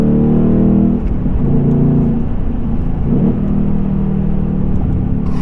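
Engine of a 2024 Mustang GT with 6-speed manual rumbling and revving close up during downshifts, with brief dips in tone between gears and no speech over it.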